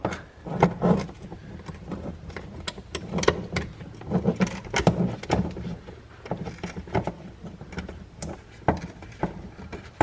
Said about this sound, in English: I have 1/4 inch drive and a really long extension that I'm going to come from underneath the bumper here like this and take these out